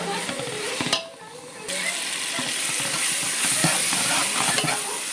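Chili powder sautés in oil in a large batch of sambar, a loud, dense sizzle with repeated scraping and stirring strokes, briefly dipping quieter near the start before resuming strongly, close by.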